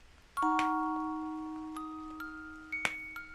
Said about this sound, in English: That's the sound of my phone folding.